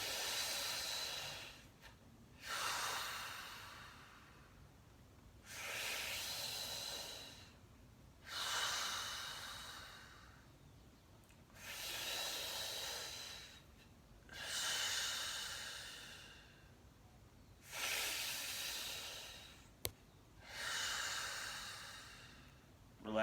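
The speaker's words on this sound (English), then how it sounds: "Inhale. Let go. Go for about 35 breaths." Slow, deep breaths during a guided breathwork exercise: eight long, rhythmic inhale-exhale cycles, each a broad airy rush several seconds long, separated by brief pauses, close and clear with no talking.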